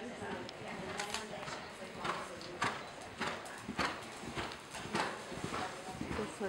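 Ridden horse's hooves clip-clopping in an uneven walking rhythm of soft thuds at moderate distance, with a person talking faintly in the background.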